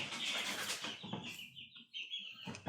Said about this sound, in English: You hear peeping in the background, that'd be the box of chicks